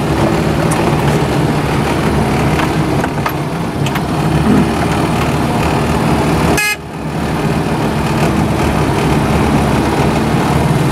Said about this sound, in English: that's because the idle, or the tick over, which I call it, the idle is too fast